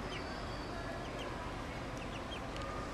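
Backyard chickens in Bushwick, Brooklyn, give faint, scattered clucks and chirps under a steady, loud wash of broadband outdoor noise.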